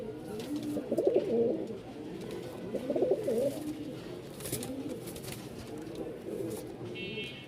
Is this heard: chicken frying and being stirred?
no